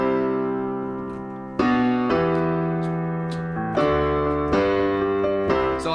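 Piano plays the chorus of a pop song, with sustained chords changing every second or so in a steady rhythm and no voices.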